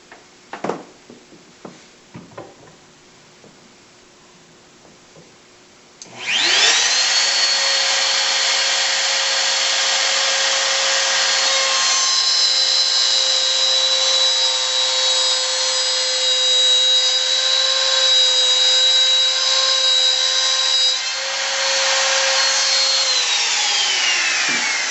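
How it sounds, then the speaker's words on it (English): A wood router spins up after a few faint taps and then screams steadily at high pitch for nearly twenty seconds, cutting pieces of wood for a fishing tackle box, loud and close with a small drop near the end. "it's easier just to set up the router"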